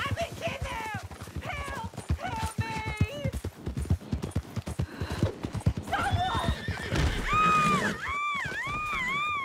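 Hooves clip-clop at a gallop as a horse neighs and whinnies repeatedly in Red Dead Redemption 2, with loud rising whinnies near the end over busy game sound and shouting voices.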